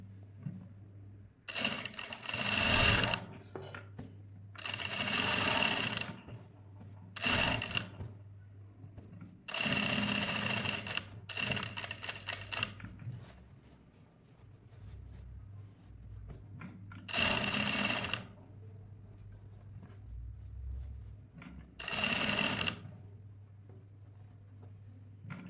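A sewing machine topstitches a princess-cut blouse in a series of short, rapid, clattering bursts separated by pauses, with a steady low hum underneath throughout.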